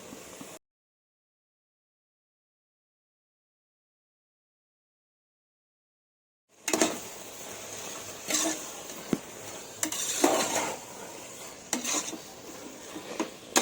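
A spoon stirs carrot halwa with jaggery in a pot, soft scraping and clinking strokes resuming after a silent gap, faint and close, with a few louder scrapes.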